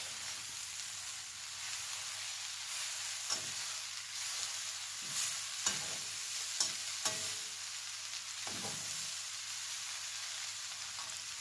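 Rice vermicelli noodles and plenty of vegetables are stir-fried in a pan, giving a continuous soft sizzle broken by periodic scraping and tossing strokes of the spatula, close and quiet.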